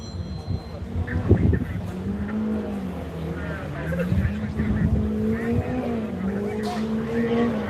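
Race cars passing close at speed on a circuit at the Loveday 400 event, engines rising and falling in pitch as they go by, with a commentator talking over the engine noise.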